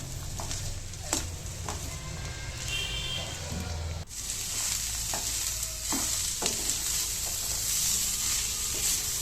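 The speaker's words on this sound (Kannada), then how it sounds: "ಸ್ವಲ್ಪ ಕಾಯಿ ತುರಿ ಕೊತ್ತಂಬರಿ ಹಾಕಿ ಚೆನ್ನಾಗಿ ತಿರುಗಬೇಕು" Palya with grated coconut and coriander being stirred in a pan for a Tumakuru-style meal, a continuous sizzle with repeated scraping strokes and occasional clinks, fairly close and steady throughout.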